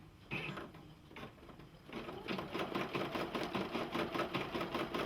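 Embroidery machine stitching a Tweety Bird design onto a baby bib, its needle mechanism chattering in a fast, steady mechanical rhythm that starts after a few clicks and grows louder and denser, close and alone.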